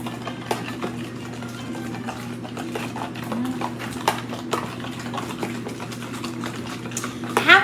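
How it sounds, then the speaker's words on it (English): Crab cake ingredients are stirred together in a bowl, giving steady soft scraping and clicking strokes over a constant low hum, with a brighter clatter near the end. "I want to mix this up in the bowl before I put the crab in"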